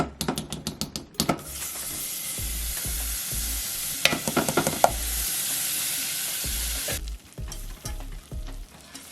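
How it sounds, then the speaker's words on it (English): Half a cup of vegan butter melts in a hot pan with a strong, steady sizzle and hiss, broken by clusters of sharp stirring clicks and taps nearby, with no speech. "So I'm going in with a half cup of vegan butter."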